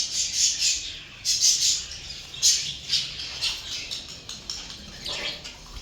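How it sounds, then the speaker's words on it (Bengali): Pet birds in a home aviary, some nesting and sitting on eggs, give repeated bright, high squawks and chirps in short bursts. Several birds call over each other at moderate volume, and no one speaks. "তো এই যে এখানে আমার সব পাখিগুলো আছে"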